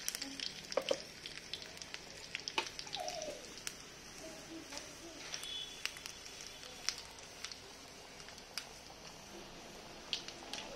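Chopped garlic frying in hot oil in a pan for spinach daal: a steady, soft sizzle with scattered crackles and pops, close by and fairly quiet, with no talking over it.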